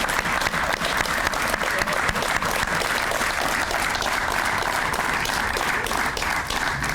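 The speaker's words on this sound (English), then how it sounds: "could you please stand for a clap, please" Audience at an Old Timers Association honoree event applauding the honorees, a loud, dense, sustained round of clapping from a large crowd, even and unbroken throughout, with faint crowd murmur underneath.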